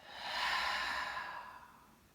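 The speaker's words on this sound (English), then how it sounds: "inhale and exhale with your mouth" A single deep breath drawn in and let out through the mouth during a relaxing hamstring stretch session, a soft airy rush swelling then fading over about two seconds, close and quiet with no talking.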